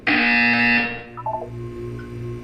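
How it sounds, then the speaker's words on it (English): A harsh electronic buzzer from the video game Portal 2 sounds loudly for under a second, then gives way to quieter beeping tones and a low hum. "You will hear a buzzer."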